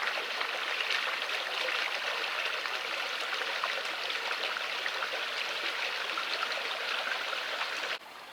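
A river runs steadily beneath a bridge in a Hampshire village, a continuous close rushing and babbling of water with no voices, dropping suddenly in level near the end.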